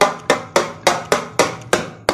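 A metal spoon stirring karela (bitter gourd and onion) sabzi in a cooking pot, heard as eight sharp, loud, evenly spaced clanks in quick succession, close up with no talk.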